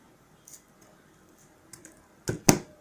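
Scissors cut through paper for a handmade paper flower, giving a few faint snips before two sharp, close crunching cuts near the end, with no talking.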